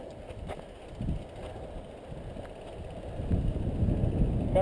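Gusty wind buffets the microphone on an exposed rock face during a mountain bike ride on the Xanadu trail, low rumbling and steady, with stronger blasts near the end and no talk.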